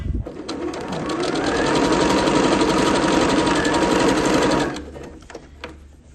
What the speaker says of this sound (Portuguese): eu venho aqui na minha máquina, posiciono aqui, não dou retrocesso e vou costurando